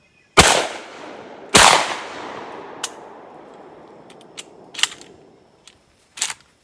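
A Hatfield 28 gauge shotgun firing outdoors, two loud close blasts about a second apart, each trailing a long echoing decay, followed by scattered sharper clicks and pops from handling and more distant reports.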